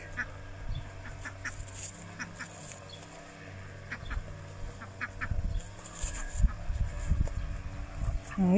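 Ducks, including a large Cayuga drake, quack and honk in short irregular bursts close by in a poultry yard, growing busier and louder toward the end, with faint chatter in the background.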